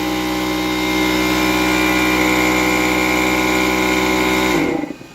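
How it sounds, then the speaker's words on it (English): A garage air compressor at a tire shop runs loud and steady nearby, a constant droning hum with tonal whine that holds unchanged for several seconds, then suddenly shuts off and fades. "otherwise the air compressor will keep building up pressure every time"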